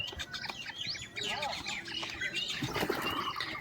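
A black francolin calling nearby, repeated squawking and chirping notes over a continuous background hiss.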